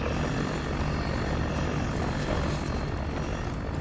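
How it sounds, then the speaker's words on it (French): A drone approaching in Black Ops 3 multiplayer gives off a steady, dense, helicopter-like rotor drone that stays loud throughout, with no voices over it. "Drone en approche."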